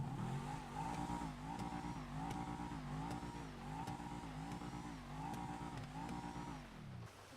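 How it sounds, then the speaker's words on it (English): Massacro sports car in GTA, engine revved repeatedly in even blips: a loud, close, rasping exhaust note that rises and falls about six times in steady rhythm, with no talking. "There's only one car in this game that has that engine noise, and that is the Masacro and the race car Masacro"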